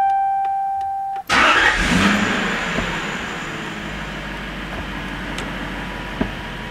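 A 1992 Lexus SC400 engine cranks briefly, then catches and starts with a loud burst, settling into a steady idle that runs on alone with only a small blip near the end.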